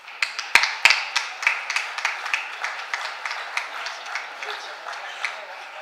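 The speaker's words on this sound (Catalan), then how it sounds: "Un aplaudiment, per favor" An audience breaks into applause at a public presentation event in Pego, a burst of sharp claps followed by steady rhythmic clapping that gradually softens.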